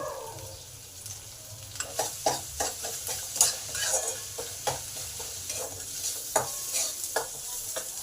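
Chopped onions with a pinch of salt fry in oil in a pan while being stirred: a steady soft sizzle runs throughout, broken by a regular series of close scraping strokes from the spatula. No voices.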